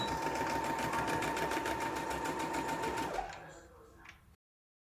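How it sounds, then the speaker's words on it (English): A sewing machine runs a fast, even stitching buzz along a fabric tie belt for about three seconds, then stops, leaving a few faint handling clicks and rustles nearby. "now that I have sewn my tie belt, left my ends with the dot open"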